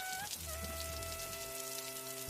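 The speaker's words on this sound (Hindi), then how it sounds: "गांव में सुबह से ही तेज बारिश हो रही थी।" Heavy rain pours down on a village in a cartoon setting, a dense, steady hiss of falling water over a faint sustained tone, continuous and close throughout.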